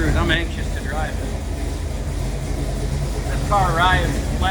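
1951 Mercury with a 454 engine and overdrive, its low engine rumble steady and close while someone talks over it throughout.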